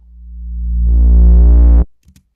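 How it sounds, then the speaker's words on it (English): A reverse 808 bass note in a music track swells from near silence into a deep, booming tone that brightens as it builds, then cuts off abruptly. "again, like a reverse 808"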